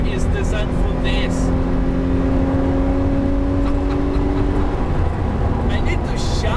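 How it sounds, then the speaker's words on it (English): A loud Lamborghini Murcielago with a 6-speed manual roars steadily at high speed, with a sustained whining hum and rushing wind noise throughout. "This car is so loud."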